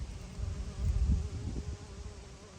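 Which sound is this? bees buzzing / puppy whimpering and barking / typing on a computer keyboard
bees buzzing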